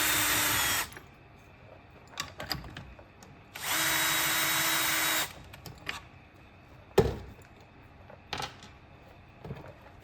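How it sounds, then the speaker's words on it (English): A power tool whirs in two short bursts, loosening bolts from a diffuser adapter housing, with scattered metallic clanks and taps of parts being handled between runs in a quiet room. "Remove the 10 bolts from the adapter to the housing."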